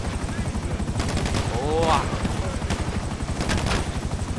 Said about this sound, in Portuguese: Que helicóptero da hora, cara.